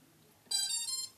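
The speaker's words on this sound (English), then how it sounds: "I got a 2-minute timer on it." An electronic timer lets out a single sustained, bright beeping tone of about half a second, loud and alone, set on a workbench during a DIY diversity build for Fatshark Dominator V2 FPV goggles.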